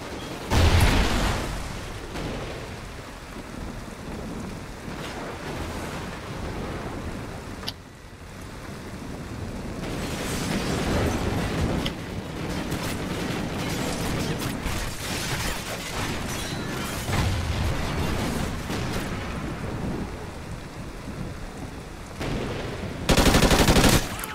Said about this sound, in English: this guy is just like shooting at me